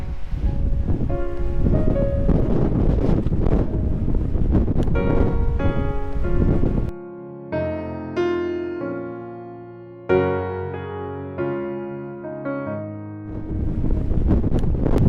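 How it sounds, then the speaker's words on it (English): Strong wind roars across a mountain trail on a hike toward Miller Peak, a loud, steady rush buffeting the microphone, with an instrumental music passage overlapping the middle. "It's a whole lot windier than I thought it was going to be."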